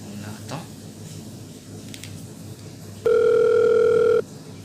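A phone call being placed gives a steady electronic ring or dial tone lasting about a second, loud and clear against faint room noise with no speech over it.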